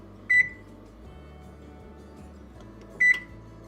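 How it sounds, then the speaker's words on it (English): An oven beeps while being set to preheat to 375, with two short, sharp electronic beeps about three seconds apart over a quiet kitchen background. "we're gonna start out by preheating the oven to 375"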